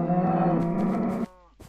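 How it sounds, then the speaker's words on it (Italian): Minecraft cows give one long, close, loud moo, a droning bovine call held steady before it cuts off, followed by a short quieter animal grunt. "Altro branco di mucche"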